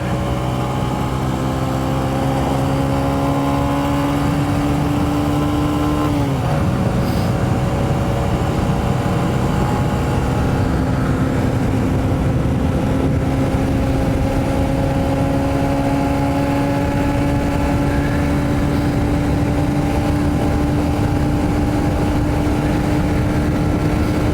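A 2023 Honda CB125F fitted with a 28mm throttle body revs steadily while being ridden, its engine note climbing in pitch through a gear, dropping briefly at a shift, then rising again over constant wind rush.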